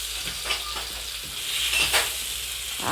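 Carrots and bell pepper sauté in a hot pan with a steady, close sizzle, broken by soft scrapes and stirring strokes every second or so.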